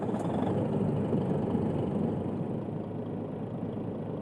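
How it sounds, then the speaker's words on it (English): Freightliner Classic 120 truck engine in Euro Truck Simulator 2, a steady low diesel rumble idling evenly after startup, close and continuous with no talk. "Start the truck."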